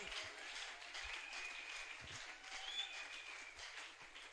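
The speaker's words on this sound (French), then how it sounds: "on acclame très fort pour le Seigneur" A church congregation applauds and cheers in praise, a steady wash of clapping that runs throughout at an even level, with faint low thumps underneath.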